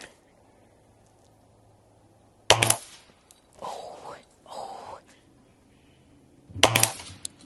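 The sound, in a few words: Weihrauch HW95 air rifle shots at target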